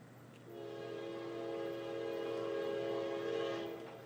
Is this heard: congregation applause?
no